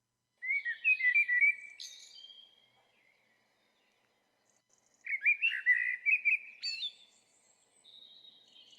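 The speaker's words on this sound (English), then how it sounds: "clicking play and enjoying the wonderful sounds of a blackbird" Recorded blackbird song plays in two clear bursts of fluting, warbling phrases with rising whistled notes, separated by a pause of near silence.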